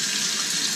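Running tap water pours steadily over the roots of a phalaenopsis orchid, a close, continuous splashing rush with no pauses or voices.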